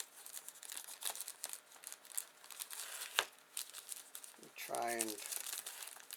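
Plastic packaging around a USB floppy drive is crinkled and torn open up close in a few scattered rustling bursts, with a person speaking briefly over it.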